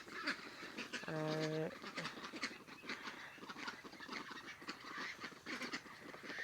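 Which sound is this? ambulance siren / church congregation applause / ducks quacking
ducks quacking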